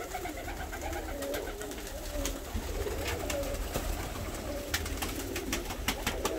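Fancy pigeons in a crowded loft keep up a steady, close chorus of soft cooing, with scattered wing flutters and light clicks mixed in.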